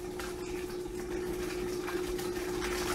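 A kitchen blender runs on low speed while making a simple salad, giving a steady mechanical hum with a constant whine and slight pulsing churn, fairly quiet and without talk.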